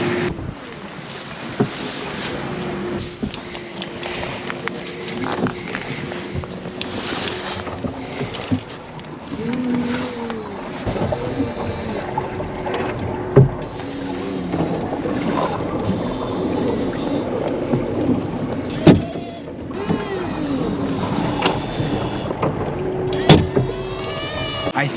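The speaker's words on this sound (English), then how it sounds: "the autopilot keeps making a noise, kind of like a clanking noise" A sailboat's autopilot ram clanks and knocks in sharp, irregular bursts as it pushes and pulls against the helm, heard over constant creaking of the hull and wash of water at sea.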